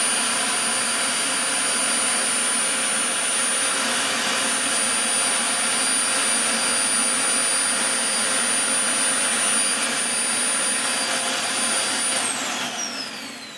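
A Dyson DC40 Mk1 upright vacuum cleaner runs on test with a loud, steady motor whine and high tonal hum throughout, no talk, then the pitch starts to wind down at the very end as it is switched off.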